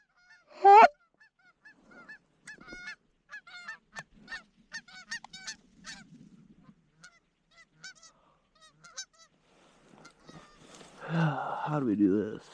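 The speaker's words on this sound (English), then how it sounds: "see you when the geese start flying" Geese honk during an early-season goose hunt near silos in North Dakota, with scattered repeated calls, one loud burst near the start and fainter honks throughout, while people talk toward the end.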